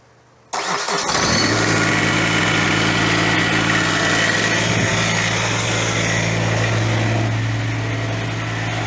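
A neglected Ventrac 4500Y compact tractor at full throttle fires up after a short quiet moment and settles into a steady, loud, close engine drone with a strong low hum that holds to the end.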